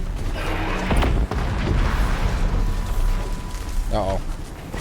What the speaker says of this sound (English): I was too close to the explosions.